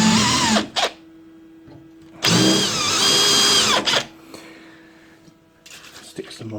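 A power drill bores into a workpiece while building wheels for a tyre machine, two loud whirring bursts, one short and one lasting over a second, with quiet gaps and faint handling noise between.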